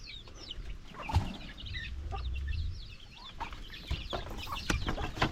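Hens and their young chicks in a farm pen cluck and peep, with soft irregular clucks and thin high chirps scattered throughout, close by and fairly quiet.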